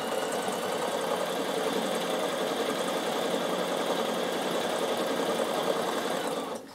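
A Bernina sewing machine stitches fabric in one continuous, even mechanical whir with a fast rhythmic chatter, running alone at moderate volume for several seconds before stopping abruptly.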